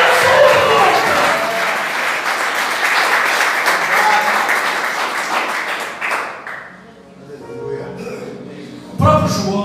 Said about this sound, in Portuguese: Já que você está aplaudindo ele